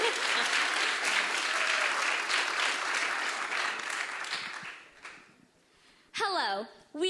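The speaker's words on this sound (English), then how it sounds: "Round of applause." Audience applause at a student pitch competition, a dense burst of clapping that fades out after about five seconds, followed by a voice starting to speak.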